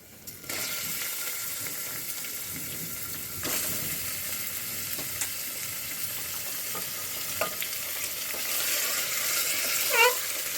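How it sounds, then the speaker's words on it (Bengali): Washed, cut meat hitting hot oil over reddened onions, giving a steady close sizzle and frying hiss with occasional clicks and spoon scrapes, no talking. "এবার আমি কেটে ধুয়ে রাখা মাংসগুলো দিয়ে দেবো তেলের মধ্যে।"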